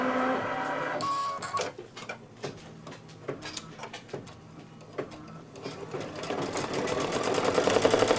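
An embroidery sewing machine stitching the first seam in blue thread on a Santa table runner, running as a steady rhythmic mechanical whir with repeated needle clatter that grows louder toward the end.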